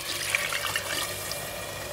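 Water is poured into a pressure cooker holding chicken, making a steady, close splashing gurgle that runs evenly without pause.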